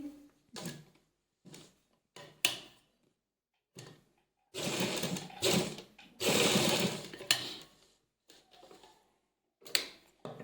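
A sewing machine stitches a half collar neckline in many short, choppy bursts with brief pauses, mixed with mechanical clicks and handling noises, with no talking.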